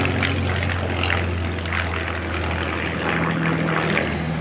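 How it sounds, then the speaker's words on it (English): A propeller plane passing overhead, a steady droning engine roar with a low throbbing hum that holds fairly loud and even for a few seconds, with no talk. "I can tell you that that was a cool plane"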